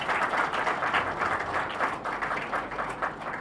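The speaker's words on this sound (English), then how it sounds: "Give a round of applause for that particular team." A crowd at a state-level debate event claps for a team: sustained, fairly loud applause from many people, its uneven surges giving a rippling texture throughout.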